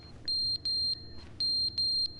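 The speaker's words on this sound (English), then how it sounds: "The alarm is beeping." An electronic alarm beeping in two pairs of sustained high-pitched tones, each tone lasting about a quarter second with short gaps, clear and prominent over quiet background.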